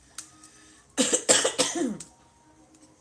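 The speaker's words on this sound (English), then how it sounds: "I apologize about the coughing." A close, harsh burst of several coughs in quick succession from a person recovering from COVID, loud against a quiet background, followed by silence.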